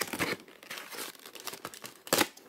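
Scissors cut through decorative bear-print paper close by, giving crisp snips and crinkling rustles in irregular bursts, with one louder crunch toward the end and no talking.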